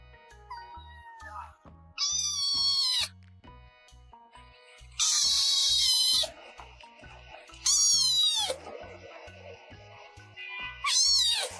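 A cat meows loudly in four drawn-out, rising and falling calls spaced across the clip, with quieter rhythmic background noise between them.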